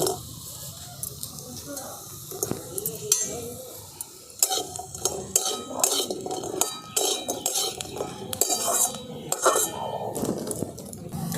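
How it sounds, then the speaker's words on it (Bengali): Fried semolina fritters tumble into a pan and get stirred, with repeated utensil scrapes, clinks and knocks against the metal over a faint background sizzle, close and fairly loud. "এই যে সুজির যে বড়াগুলো ভেজে রেখেছিলাম এগুলো দিয়ে দিচ্ছি"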